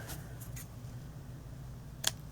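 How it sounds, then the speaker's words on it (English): Scissors snip through a hanging thread on a no-sew snowman Christmas ornament, a few faint small cuts with one crisp snip near the end, close and quiet with no talk. "So I'm going to cut this"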